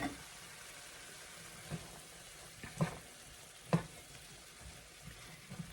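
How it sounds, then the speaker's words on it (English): Black beans and corn stirred into a sweet potato hash in a pan, with a low simmering sizzle and a few soft spoon scrapes, quiet and close. "I'm going to just stir that right in."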